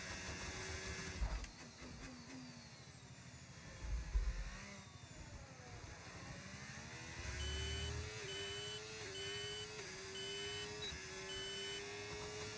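Race cars in the F1 25 video game at Suzuka under safety car conditions, with engine whines rising and falling in pitch as cars shift gears, plus a few low thumps, continuous and moderately quiet with no talking.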